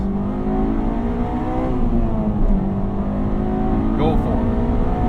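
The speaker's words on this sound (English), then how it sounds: "I'm going to let this van go. Rev match in a second," A manual van's engine hums under load and then revs as the driver rev-matches a downshift, a steady droning tone rising in pitch, heard from inside the cab with someone talking over it.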